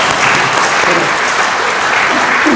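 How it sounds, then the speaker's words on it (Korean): Loud, continuous applause from a church lecture audience, a dense wash of many hands clapping steadily throughout without any speech. "우리 서로 위로하는 박수를 한번"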